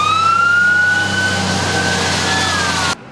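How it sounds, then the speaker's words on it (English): A loud wailing outdoor warning siren in Grand Prairie, Texas, glides slowly downward in pitch, sustained for a few seconds before cutting off abruptly. "Paying attention to warning sirens could be a lifesaver this time of year in North Texas."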